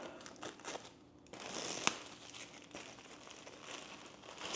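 Plastic packaging around a golf shirt crinkles and rustles faintly as it is cut open, with one sharp snip partway through and quiet handling noise, no talk.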